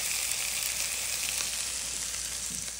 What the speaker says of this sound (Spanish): vamos a echar un poco de chorizo a dorar también ahí